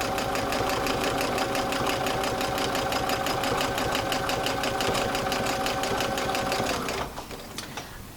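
A sewing machine stitches free-motion quilting in a steady, rapid run of close mechanical clicks, then stops near the end, leaving a few faint handling knocks.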